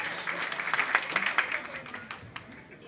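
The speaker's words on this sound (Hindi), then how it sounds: "एक बार आपके सम्मान में जोरदार ताली हो जाए" Seminar attendees break into a short burst of clapping, moderately loud, with a voice talking over and after it.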